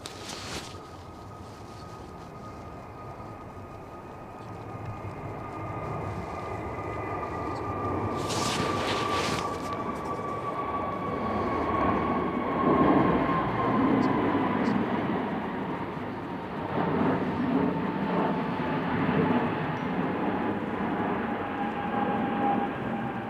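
A jet airliner going around at takeoff/go-around thrust at Manchester Airport in stormy weather, a sustained distant engine roar that swells and holds with a steady whining tone, with people chatting quietly over it.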